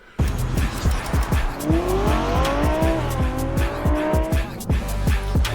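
A BMW F82 drives hard with loud squealing tires, the engine revving in rapid rhythmic bursts while the screech rises and holds, close and continuous for several seconds.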